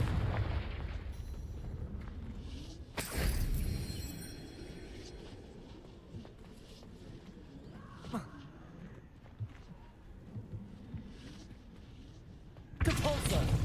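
Confringo fire spell blasts in Hogwarts Legacy, a heavy explosive boom near the start and another at the very end, with softer crackling impacts and scattered noises between them.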